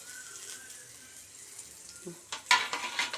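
Garlic, ginger, cumin and dried and green chilli hit hot oil. A quiet first two seconds give way to bursts of sharp sizzling and spattering close by.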